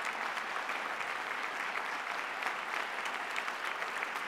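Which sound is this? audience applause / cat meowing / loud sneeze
audience applause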